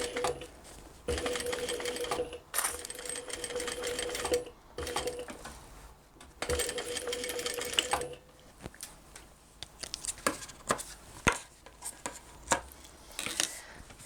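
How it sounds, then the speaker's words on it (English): A sewing machine top-stitches around the top edge of a cross-body purse in several short bursts of rapid stitching, close and clear. Quieter clicks and handling noises fill the pauses between runs. "So we're going to top stitch around that top edge now."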